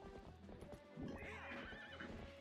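Horse in The Legend of Zelda: Twilight Princess, its hooves clip-clopping at a gallop as it lets out a loud whinny partway through.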